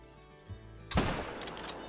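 A single loud rifle shot rings out in theHunter Call of the Wild, fired at an animal in Peru. It is one sharp, close crack with a short decaying tail over a quiet ambient background.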